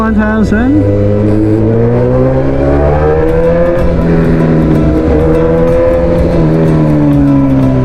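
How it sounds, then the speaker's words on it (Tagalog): A Suzuki GSX 1000 motorcycle engine drones loudly and steadily while riding, its pitch gently rising and falling with the throttle across the whole stretch, with some wind noise. "sakay na naman tayo kay GSX 1000"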